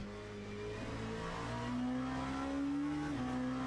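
A race car engine in the Le Mans Ultimate sim racing game revs steadily upward in pitch, drops sharply near the end, then climbs again, heard alone at moderate volume.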